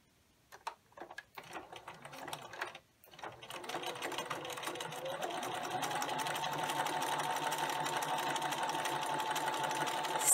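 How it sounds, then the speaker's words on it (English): A sewing machine runs a straight edge stitch along a fabric edge for a garden apron: a few short stuttering bursts, a brief pause, then a steady close mechanical whir that keeps going to the end. "Using a straight stitch, you're going to stitch close to the edge"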